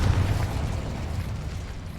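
Incendio fire spell blast in the video game Hogwarts Legacy, a dense low rumbling burst of fiery explosion sound that stays loud and gradually tapers over two seconds, without talk.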